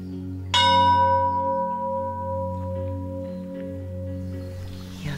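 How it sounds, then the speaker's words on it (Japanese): A single deep temple peace bell at Takedera in Japan is struck once and rings out, its resonant tone slowly fading over a low steady hum. "平和の鐘になります。"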